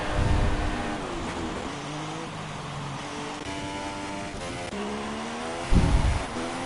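An F1 race car pulls out of the pits in a racing video game, its engine whining and rising in pitch through gear changes, with other cars droning nearby and a louder roar near the end.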